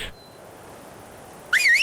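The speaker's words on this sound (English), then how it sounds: "Didn't need to whistle at it." A player's whistle command in the video game ARK: Survival Evolved, heard as one short, bright, rising-and-falling whistle near the end, loud and close, after near silence.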